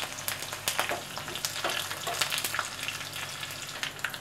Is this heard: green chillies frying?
yes